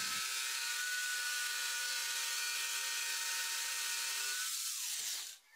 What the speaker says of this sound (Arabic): نزيلها باستخدام نفس المنشار، فالطريقة سهلة وبسيطة، فقط بتمهل نزيلها هكذا